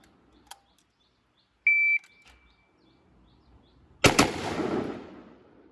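An AR-15 rifle fires at a shooting range after a timer beep, a single loud close report near the end trailing into echo, with a faint click earlier in near silence.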